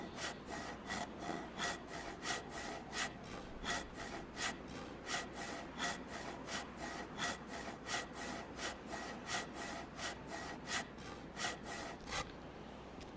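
Wood being sawn in the DayZ video game: a steady run of rhythmic back-and-forth rasping strokes, about two per second, close and clear, ending abruptly.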